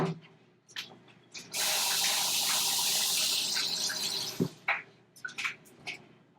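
A kitchen tap runs for a few seconds while a utensil is washed, a steady splashing gush of water framed by clinks and knocks of handling before and after.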